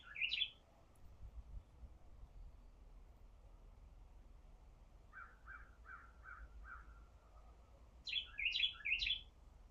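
A little brown finch sings outdoors, one short burst at the start, a quieter run of four or five even notes midway and a louder trio of chirps near the end, all faint against a hushed, still background.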